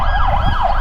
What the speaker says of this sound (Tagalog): May emergency ata. May wangwang man.